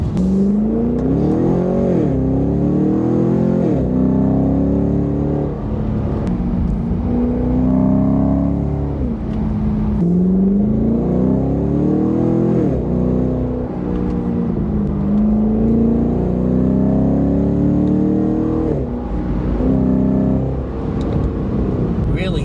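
Chevy SS V8 fitted with a Roto-Fab cold air intake revving repeatedly, each rise in pitch climbing then dropping back, loud and close, with someone talking over the engine.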